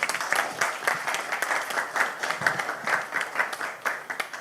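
Attendees at a Czech-French artificial intelligence workshop applaud an organizer, a smaller audience whose individual claps are distinct and rhythmic, steady and fairly close for several seconds.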